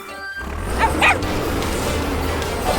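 A cartoon dog barks and yips in a few quick bursts over a steady background hum, close and fairly loud, in an animated fire-truck adventure.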